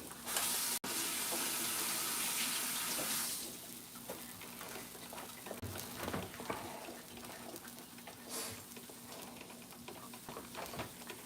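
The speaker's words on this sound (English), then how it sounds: "I'm gonna rinse my fingers off real quick" A kitchen tap runs steadily for a few seconds as fingers greasy from sausage links are rinsed, then shuts off, leaving quieter kitchen clatter and scattered small knocks.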